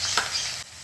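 Cumin and green chili hit hot oil for kadhi, a brief close burst of crackling sizzle with a quick stir that then settles to a quieter hiss.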